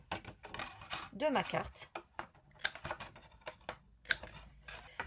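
A corner rounder punch trimming the corners of a paper card, giving several sharp, close clicks that fall among ongoing talk.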